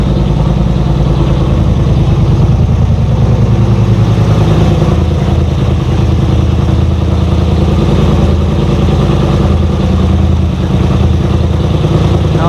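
A vehicle engine idles steadily after warming on a block heater in cold weather before a snowstorm, giving a loud, close, continuous rumble for the whole stretch with no talking.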